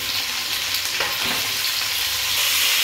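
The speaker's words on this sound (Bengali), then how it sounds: "এবার কেটে রাখা টমেটোগুলোকে এর মধ্যে দিয়ে দিচ্ছি" Chopped tomatoes hit potatoes frying in a pan for a mustard green-tomato dish, giving a steady loud sizzle with a brief burst of stirring and spattering partway through, no talk.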